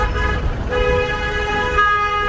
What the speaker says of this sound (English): Everyone loves to honk here.